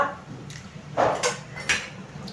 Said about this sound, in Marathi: आपण गॅसवर एक पातेलं ठेवलंय